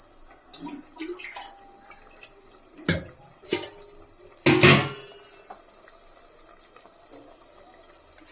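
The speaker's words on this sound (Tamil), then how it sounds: "தண்ணி லைட்டாக ஊற்றிக்கோங்க" Water splashes briefly into a pan of hot oil with a short sizzling burst, amid soft kitchen clatter and a steady faint background hiss.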